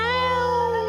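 A man imitating a screeching cat, a single sustained, tonal yowl held for under a second, close and loud with no other sound around it.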